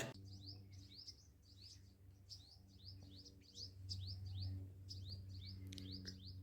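Small birds chirp repeatedly in quick, high, descending notes outdoors at a temple in Nagviri, Kutch, fairly faint, over a low steady hum.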